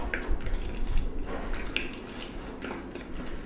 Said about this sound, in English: You kind of mix it together with a fork.